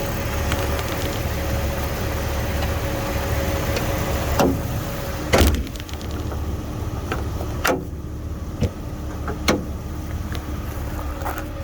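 2003 Jeep Wrangler X with the 4.0L engine and automatic 4x4 running before a drive, a low steady idle rumble with several sharp clunks and knocks of handling over it partway through.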